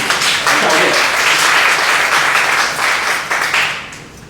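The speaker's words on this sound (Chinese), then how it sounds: "我们用最热烈的掌声欢迎教练" Warm applause from a church congregation at a parenting seminar, dense and sustained for several seconds before tapering off near the end, with faint voices mixed in.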